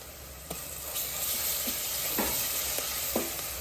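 Ginger garlic paste frying in a pan for country chicken curry, a dense, close hiss with a few light taps and scrapes from stirring and no talking.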